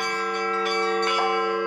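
Russian Orthodox church bells ring in dense, sustained overlapping tones, with fresh strikes landing about every half second over a steady humming resonance at moderate level.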